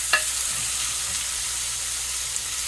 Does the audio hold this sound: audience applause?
no